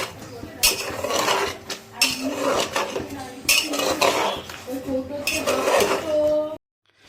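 Spiced bottle gourd and prawns are sautéed over high flame in a pot with no oil, a metal spoon scraping and clanking against the pot in repeated bursts before a sudden stop.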